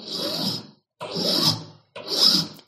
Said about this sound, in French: Je prends ma lime carrelette, lime plate en grain numéro 2 et je viens donner quelques coups de lime.